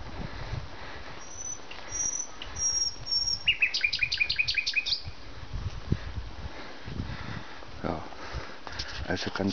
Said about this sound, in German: Dass mitten in der Nacht Vögel singen.